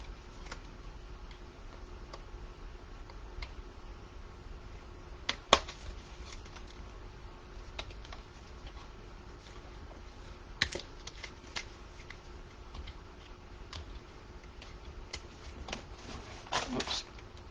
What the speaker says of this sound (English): So we're going to persist with the scissors.